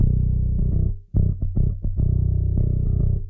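A thick, fat bass guitar with all effects on plays a riff of sustained and clipped low notes, loud and close, with a smooth, rounded processed tone.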